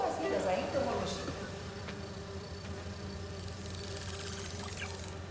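Buzzing of wolf wasps in the Spider-Man 2 video game, a steady insect drone with wing whine, set over a low game hum and swelling slightly toward the end.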